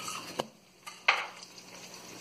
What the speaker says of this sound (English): you're just going to get the spatula under and flip them.